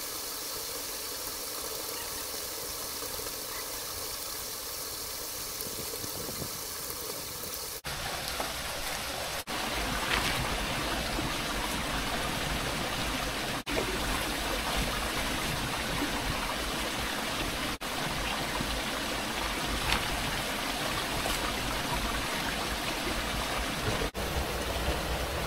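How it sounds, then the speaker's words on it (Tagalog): Heavy rain falls at a riverside campsite, making a constant loud hiss of water that gets denser and stronger partway through and then holds as a steady wash with no voices. "Kapansin-pansin dito na palakas na ang ulan"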